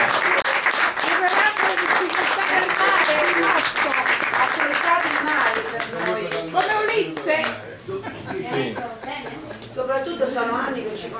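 Applause at an award ceremony: a crowd clapping steadily and densely, then gradually thinning out into scattered claps while voices talk over it.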